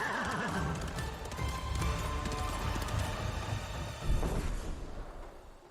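Hooves of an armored horse pound steadily at a gallop in the video game Ghost of Tsushima, a rapid, continuous rhythm over wind and ambient game sound, moderately loud throughout with a heavier thump near the end.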